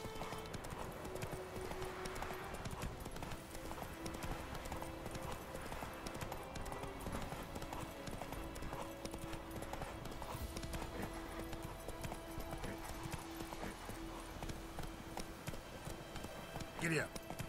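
A horse gallops in a video game with a continuous, rhythmic clip-clop of hooves at a fairly low level, while a person talks over it.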